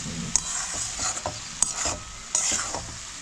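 Cabbage and other vegetables sizzle softly in a pan while a utensil scrapes and stirs them in several distinct strokes, close up, with no one speaking.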